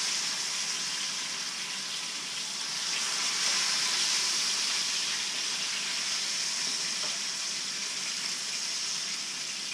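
Flour-dusted redfish fillets fry in a pan with a steady, even hiss and sizzle, moderately loud and unbroken throughout, with no talk.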